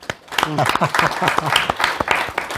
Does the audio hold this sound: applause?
yes